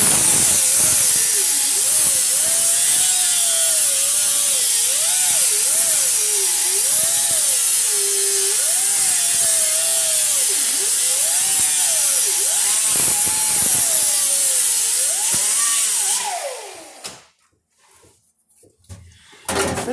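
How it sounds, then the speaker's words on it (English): A grinder working a floor pan patch panel, a loud, steady high whine with the pitch wavering as pressure shifts, running for about sixteen seconds before cutting off to near silence. "So take my sander real quick, grinder, let's take some off of that."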